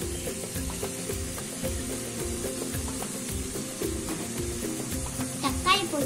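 Ginger garlic paste sautéing in a pan, a low steady sizzle with repeated soft scrapes and knocks of a spoon stirring, moderately quiet throughout with a brief brighter clink near the end.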